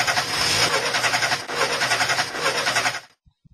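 A car engine runs with a steady broadband drone that wavers and slows, then cuts out abruptly near the end, leaving silence.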